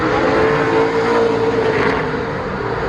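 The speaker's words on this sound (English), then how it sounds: "Drivers are out making their final runs of practice" Race cars take final practice runs at the 2019 Slinger Nationals short-track event, a loud continuous engine roar near the track that holds steady for the whole stretch, with no talk.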